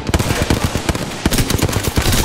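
Rapid automatic gunfire from the video game Apex Legends, loud and close, a dense burst of repeated shots with a brief gap before firing resumes.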